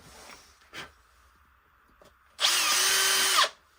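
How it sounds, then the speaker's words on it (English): A few faint clicks and shuffles, then a power drill whirs loudly into wood for about a second before stopping. "start the drill gently"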